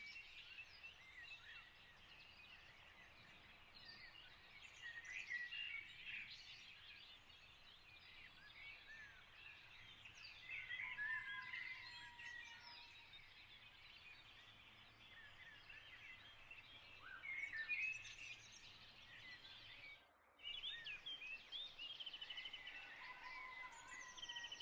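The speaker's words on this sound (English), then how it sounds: "And there's the cockerel crowing" Dawn chorus of many birds singing and chirping together at moderate distance, with a cockerel crowing among them; the layered song runs steadily throughout with a brief dip near the end.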